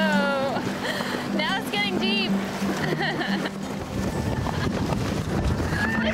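Horses splash and shuffle through the shallow Platanar River in San Carlos, Costa Rica, with intermittent whinnies and soft hoof sounds over steady running water.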